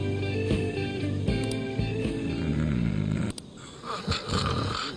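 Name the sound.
characters snoring in the video game Persona 5 Strikers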